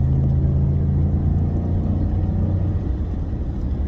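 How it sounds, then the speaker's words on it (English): A car cruising at 50 mph on the highway, heard from inside as a steady low rumble of engine and road noise that stays constant throughout the few seconds. "Almost as insane as this car going 50 miles an hour on the highway."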